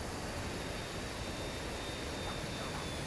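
An A-6 Intruder jet in the MSFS 2024 video game with its engines throttled back, a steady, faint, broadband jet roar and hiss holding level throughout with no talking.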